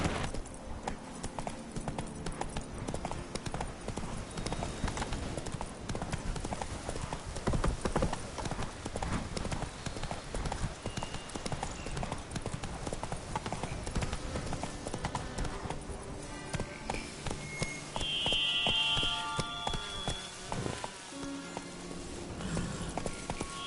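Horse Roach in The Witcher 3 gallops with rapid, steady clip-clop hoofbeats over ground, continuous and fairly close, with a faint voice briefly underneath.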